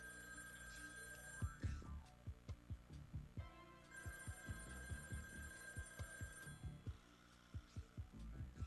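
A telephone rings indoors, a repeating electronic trill sounding in bursts over a low throbbing hum, moderately close and fairly faint.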